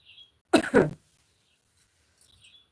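A single person coughs twice in quick succession, close and fairly loud, followed by quiet breathing.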